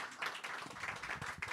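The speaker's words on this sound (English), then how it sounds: "let's give Joe a round of applause" An audience applauds a visiting author at a book talk. Scattered claps form a modest round of applause, fairly faint, with bursts rising and falling in uneven rhythm.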